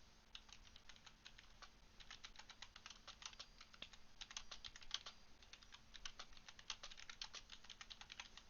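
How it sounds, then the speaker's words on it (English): Fingers tap steadily on a computer keyboard, a quick, even patter of clicks that is close and fairly quiet, with no one speaking. "Right, so I'm just typing that there."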